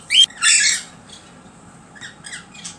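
A pet bird lets out two loud, harsh squawks in quick succession at the start as it flies off, followed by fainter chirps and rustling in a quiet room.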